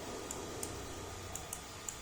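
Computer keyboard typing, a few sparse soft key clicks spaced irregularly over a quiet steady hiss, faint and distant.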